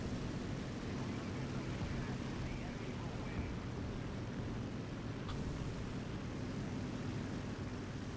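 A Spitfire aircraft engine in a video game: a steady, broad droning roar that holds level throughout, with speech faintly underneath.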